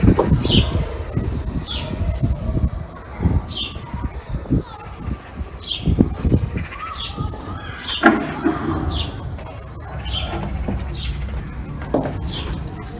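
Grasshoppers chirp steadily near a small apartment balcony, a thin continuous high buzz with repeated short chirps, while distant construction work clanks and thuds underneath.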